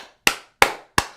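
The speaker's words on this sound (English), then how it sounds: "Clap your hands, everybody." Three sharp hand claps spaced evenly about a third of a second apart, each loud and crisp with a quick decay, heard alone without talk.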